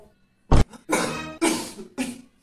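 A child coughs in a sharp burst, then several more harsh, drawn-out coughs follow in a short series, close and fairly loud with no talking.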